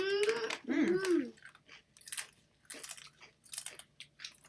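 Steak-flavored potato chips bitten and crunched close up, a few crisp crunching bursts in the first second followed by intermittent chewing crunches, with quiet voices nearby.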